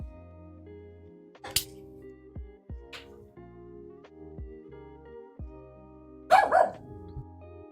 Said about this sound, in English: My dogs are being very, very grumpy today.